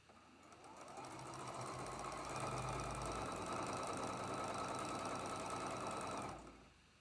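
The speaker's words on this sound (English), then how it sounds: "Flip it over, line it up, and sew it." A sewing machine stitches quilt block pieces in one long steady run of rapid, even stitching at close range, with a brief slower start and a quick stop near the end. No one speaks.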